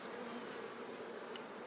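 Worker honey bees at an open beehive drone in a dense, steady buzz that sits close and fairly loud, with no voices.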